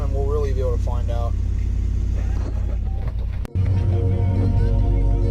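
A 1991 pickup truck with an automatic transmission drives along, its engine running with a steady low rumble and road noise throughout. Voices talk over it in the first half, and a brief dropout comes before the drone resumes loudly.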